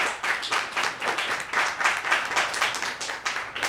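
Audience applause at a poetry slam, a dense steady wash of many hands clapping across the whole stretch, loud and close, with a faint voice or two mixed in.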